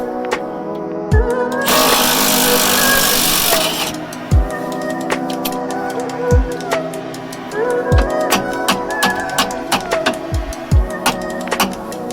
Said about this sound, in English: then you can impact it off, if you're lucky.